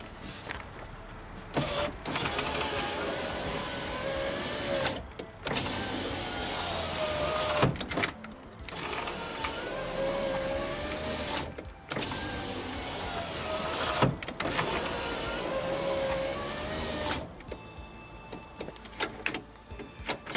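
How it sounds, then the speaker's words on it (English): Electric power window on a 1998–2001 Nissan Altima running up and down through several cycles, a steady whirring motor hum broken by brief pauses at each end of travel, fairly close and without talk. "connect it up, and make sure the window rolls up and down"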